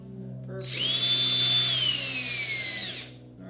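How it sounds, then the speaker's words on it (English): A power drill drives a nail through soft wood, one short whirring burst of about two seconds that rises, holds and then winds down, close and loud against a quiet background hum. "So that nail drills through that soft wood pretty good, almost like a drill bit"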